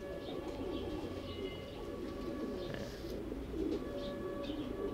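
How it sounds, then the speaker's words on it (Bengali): Racer pigeons cooing inside a loft, a steady low murmur of overlapping coos continuing throughout at moderate distance with faint chirps above. "হ্যাঁ, লাল একটা কবুতর দেখাই"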